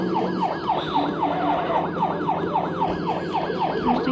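A police car siren in a video game wails steadily, a rapid repeating rise-and-fall yelp over engine rumble, loud and close throughout.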